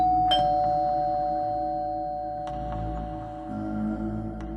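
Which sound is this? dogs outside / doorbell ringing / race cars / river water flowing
doorbell ringing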